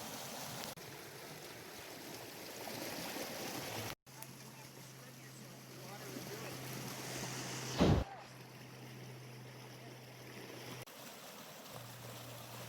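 Reed Creek, a mica-schist mountain stream in the Smoky Mountains, flowing with a steady broadband rush, close and continuous, with a low hum and brief bumps partway through.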